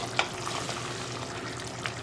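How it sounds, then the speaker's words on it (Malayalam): Beef sizzles and crackles steadily in a hot pan as its cooking water boils off, a close, continuous fry with a sharp clink near the start. "ഞാനിപ്പോൾ ഒരു പാനിലാണ് ബീഫ് വരട്ടിയെടുക്കാൻ പോകുന്നത് അപ്പോൾ ഇതിൽ വെള്ളം ഒന്ന് വറ്റിച്ചെടുക്കട്ടെ ആദ്യം"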